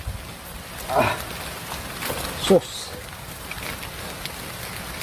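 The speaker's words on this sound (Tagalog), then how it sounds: "lumakas yung ulan" Heavy rain falls steadily outdoors as a constant hiss, close and broadband, with a few louder thumps and a short word spoken over it.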